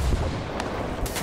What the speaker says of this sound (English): Getting shot out from all angles here. We're under fire.